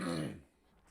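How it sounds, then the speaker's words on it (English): A single short throat clearing or cough from one person, close and brief, fading quickly into quiet. "not just because I decided I needed a cough"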